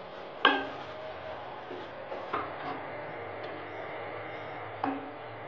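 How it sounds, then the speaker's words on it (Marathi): A spoon scrapes and clinks against a pan while ridge gourd is stirred in hot oil with ground peanuts, garam masala and red chili powder, giving a few distinct taps over a steady soft sizzle. "भाजी छान अशी तेलामध्ये ही हलवून घ्यायची आहे।"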